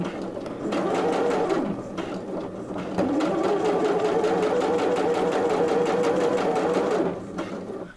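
A new sewing machine stitches steadily at a controlled speed, a close mechanical whir with rapid needle clatter that pauses briefly, then resumes and holds an even pace before stopping.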